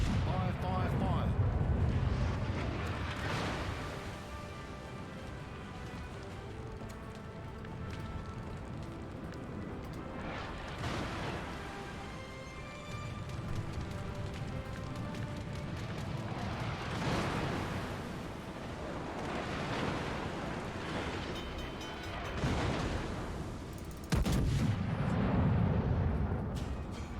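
Naval artillery in World of Warships, the Yamato battleship firing its big guns, booming in several heavy salvos with long rumbling tails across the stretch, while a voice talks over parts of it.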